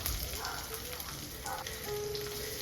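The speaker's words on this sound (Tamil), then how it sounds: "ஒரு 2 ஸ்பூன் ஆயில் ஆட் பண்ணிவிட்டு கொஞ்சமாக கடுகு, கொஞ்சம் ஜீரகம், இது ரெண்டையும் ஆட் பண்ணிக்கலாம்." Mustard seeds and cumin crackling in a couple of spoons of hot oil in a pan, a steady close sizzle with scattered small pops throughout.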